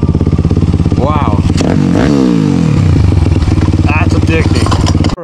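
A 24 hp Daytona 190 pit bike engine revs loudly and continuously, its pitch rising and falling through sharp throttle blips, with a voice talking underneath.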